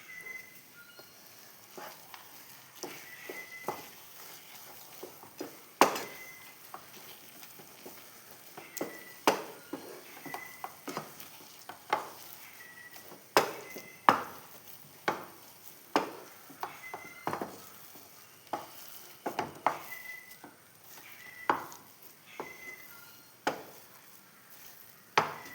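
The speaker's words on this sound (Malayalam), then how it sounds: "എന്നിട്ടെല്ലാം കൂടി നമുക്ക് നല്ല വൃത്തിയിൽ ഇളക്കി എല്ലാ സ്ഥലത്തും ആക്കി കൊടുക്കാം." Jackfruit seed halva with fried cashews and almonds stirred in a pan, a spoon scraping and tapping the metal in irregular close clicks and knocks over a low background hiss.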